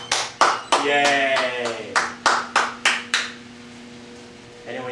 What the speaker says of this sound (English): Everybody applaud for Jim Boeheim in a standing ovation.